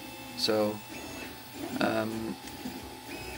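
A 3D printer prints a PETG frame for an RC monster truck at moderate speed, its motor whirring and buzzing steadily beneath someone talking.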